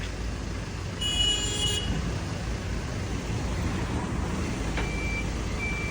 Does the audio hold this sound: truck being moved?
yes